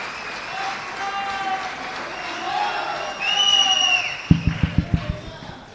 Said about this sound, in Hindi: तालियों से स्वागत कीजिए रवि का और हौसला अफजाई कीजिए।